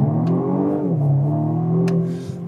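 A BMW M135i engine revs and climbs as the car pulls away from a stop, a smooth rising drone that dips at a gear change then builds again, heard from inside the cabin with no talking.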